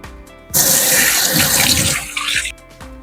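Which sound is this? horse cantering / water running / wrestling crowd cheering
water running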